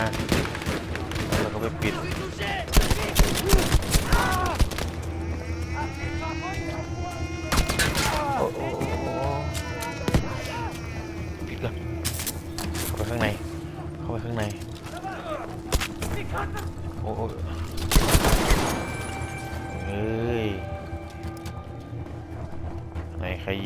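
Gunfire at a turret in Battlefield V, Tirailleur mission, heard as repeated loud broadband shots and bursts scattered through a busy battle soundscape, with players talking over it.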